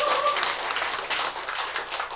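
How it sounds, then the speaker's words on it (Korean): Audience applause at a Korean church sermon, a dense wash of clapping from a crowd lasting a couple of seconds, fairly loud and continuous. "박수."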